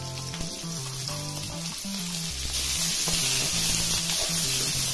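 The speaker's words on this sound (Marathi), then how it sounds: "आता ह्यामध्ये भाज्या घालून थोड्या परतून घ्यायच्या" Mixed vegetables sauté in a pan with a constant hissing sizzle that grows louder partway through, while a low repeating tonal hum runs underneath and no one speaks.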